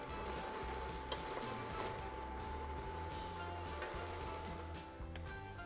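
Vegetables including onions simmering in a skillet, a soft steady sizzle that sits faint and low beneath background music.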